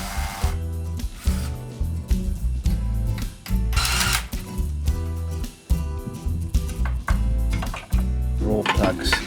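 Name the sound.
power drill drilling holes in a wall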